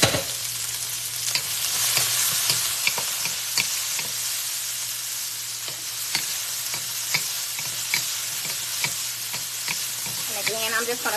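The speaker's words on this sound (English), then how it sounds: "I'm just going to cook these, the broccoli until there's just a little soft." Broccoli and other vegetables fry with adobo in a hot pan for shrimp ramen, giving a loud, steady sizzle broken by regular scraping stirs, with a brief voice near the end.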